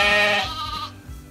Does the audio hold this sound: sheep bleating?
yes